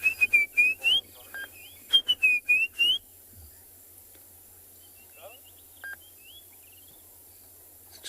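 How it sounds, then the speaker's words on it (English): Robins give their evening call at sunset at Tswalu, clear whistled phrases repeating in quick bursts for a few seconds, then softer scattered chirps over a quiet outdoor background. "Robins are starting their evening call."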